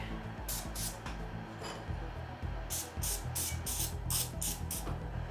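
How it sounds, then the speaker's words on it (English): Several short hissing bursts of cooking spray greasing makeup prosthetic molds, a couple early then a rapid series of quick spurts, fairly close and quiet. "we're just going to take some cooking spray and we are going to grease our molds"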